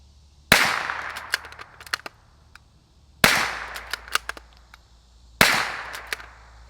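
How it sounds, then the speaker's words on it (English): Three sharp, loud gunshots from a .22 rifle fitted with Echo Zulu Defense Atom suppressors, spaced a couple of seconds apart, each ringing out with a short echoing tail. "We'll put a few rounds down range so you can get a feel for the sound unsuppressed and suppressed"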